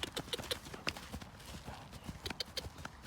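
A horse's hooves beat in a fast, rhythmic canter, a series of sharp, fairly faint thuds in quick groups heard from some distance, with no talking over them.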